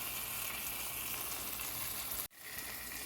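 Pork browning in a hot pan with oregano, onions and oil gives a steady, close sizzle and fry hiss that cuts out abruptly near the end, then resumes more softly.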